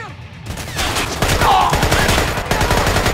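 Rapid gunfire in Splinter Cell: Conviction, a dense burst of loud close shots that continues steadily for a few seconds.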